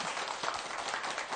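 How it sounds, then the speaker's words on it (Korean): Brief burst of audience applause after a guitar performance, a dense wash of clapping held steady at moderate level for about a second and a half. "박수 한번 쳐주세요"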